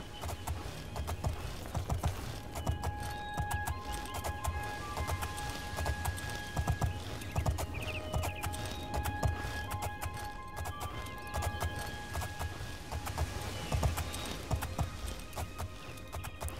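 Horse hooves gallop in the game The Elder Scrolls IV: Oblivion, a steady rapid clip-clop that runs throughout, close and clear, with faint ambient game tones behind and a brief whinny.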